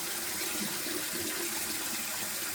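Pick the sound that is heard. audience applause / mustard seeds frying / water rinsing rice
water rinsing rice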